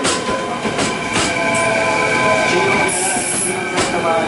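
A train rumbles and clatters along a station platform in Nara Prefecture, Japan, wheels squealing faintly, with a steady rolling hum throughout.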